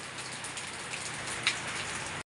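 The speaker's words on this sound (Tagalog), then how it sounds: "Tahimik ng ulan." Rain falling steadily, a dense even hiss of drops with one brief sharper tap near the middle, faint and continuous until it cuts off abruptly.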